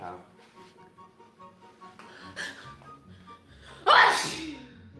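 A single loud, sharp sneeze bursts out near the end, following a stretch of quieter voices and low background sound during a live stream, close to the microphone.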